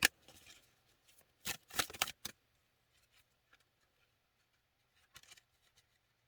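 Tarot cards being pulled out and handled, giving a few short crisp riffling and shuffling bursts in the first two seconds, then quiet with a brief rustle near the end.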